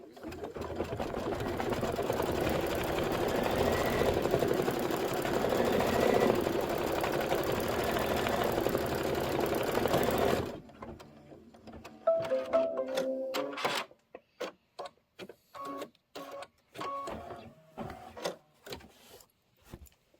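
An embroidery machine sews a placement stitch for a quilted pillow block, running fast and steady for about ten seconds, then stopping and giving a few short stitching bursts and clicks.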